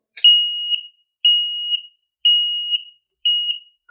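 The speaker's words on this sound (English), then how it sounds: "the alarm beacon will blink red and the buzzer will also activate" A pump control panel buzzer sounds in four evenly spaced, half-second electronic beeps, clear and close with silence between each, triggered by a high-water alarm float in a duplex float-controlled pumping system.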